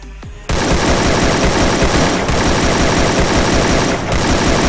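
Sustained automatic gunfire from a weapon in the battle royale game Free Fire, a loud continuous burst with no gaps that starts abruptly after a brief pause.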